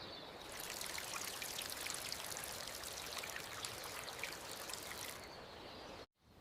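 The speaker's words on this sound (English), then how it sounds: "I water the plants." Water pours steadily onto plants for several seconds, a continuous hissing splash from a watering can or hose, alone and fairly loud before stopping abruptly.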